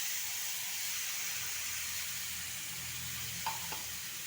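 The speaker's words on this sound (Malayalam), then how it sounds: "മിക്സി ജാറ് കഴുകിയ കുറച്ച് വെള്ളം ഇതിലേക്ക് ഒഴിച്ച് വെക്കാം" Small fish frying in a pan without oil, with a little water poured in, giving a steady faint hiss and sizzle that runs alone for a few seconds with a couple of light clicks near the end.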